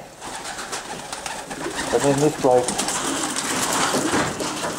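Pigeons in a stock shed loft give soft, low cooing calls, most clearly in the middle, beneath a voice talking close by.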